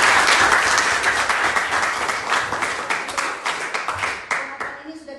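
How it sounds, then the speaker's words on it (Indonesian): A classroom of students claps together for a classmate, loud dense applause at first that thins into scattered individual claps before fading out. "tepuk tangan"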